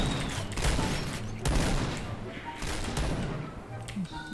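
Rapid bursts of gunfire from a shooting video game, clustered volleys with thuds and mechanical clatter, heard under someone talking excitedly.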